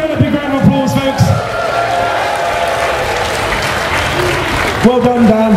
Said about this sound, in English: please give Dan a big round of applause, folks